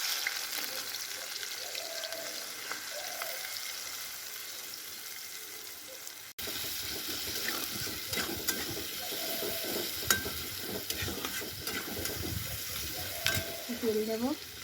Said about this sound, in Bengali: এইবার এই কড়াইয়ে পেঁয়াজটা ছেড়ে দেবো বেরেস্তার জন্য।